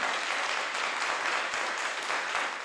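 A crowd gives sustained, dense applause after a New York judge exonerated two men convicted of Malcolm X's assassination, loud and steady throughout.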